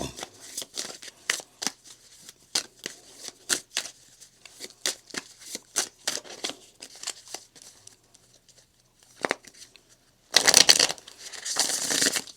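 A tarot card deck being shuffled by hand: a series of quick, crisp riffling bursts and taps, closing with a denser flurry of card noise near the end.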